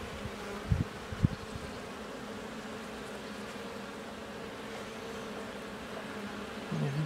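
Honeybees crowding densely over overwintered hive combs, giving a steady, close, continuous buzzing drone that holds throughout, broken by a couple of brief thumps and a louder low buzz near the end.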